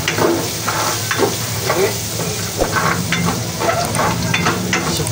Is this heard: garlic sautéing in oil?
yes